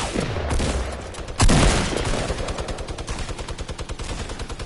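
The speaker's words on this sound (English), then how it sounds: "His old mate's up there, shooting an LMG." Light machine gun fire in a multiplayer video game, heard as long sustained bursts of rapid rhythmic shots with a loud near blast partway through, followed by steady pulsing automatic fire.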